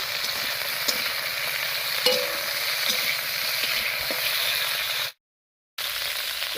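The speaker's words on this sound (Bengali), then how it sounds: "এবার এই উচ্ছেটাকে বেশ একটু লাল লাল করে ভেজে নেব" Bitter gourd pieces frying in hot oil in a pan, a steady close sizzle with occasional stirring clicks, cutting out briefly near the end.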